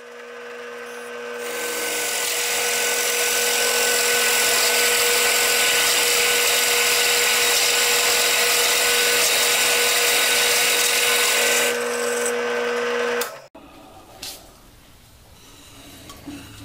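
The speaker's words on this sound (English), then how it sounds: "Okay, so I'm going to go ahead and start drilling, and we'll see how this goes." A drill press bores into a wooden cube, its loud steady whine running unbroken for about ten seconds before it cuts off abruptly, followed by faint workshop clatter.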